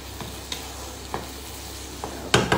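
A tadka sizzling and frying steadily in a pan, with a few clinks of a utensil stirring, the last two louder and close.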